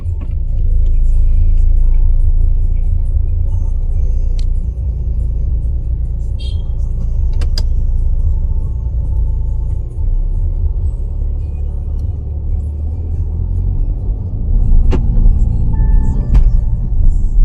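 A pre-owned Audi A6 on a test drive in Bangalore, its steady low engine and road rumble droning continuously from inside the cabin, swelling slightly near the end.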